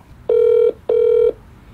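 A telephone rings twice with steady electronic tones, each ring lasting about half a second, close and clear, placed just before a call to a friend in Hong Kong.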